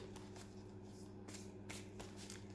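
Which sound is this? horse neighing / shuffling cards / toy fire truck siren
shuffling cards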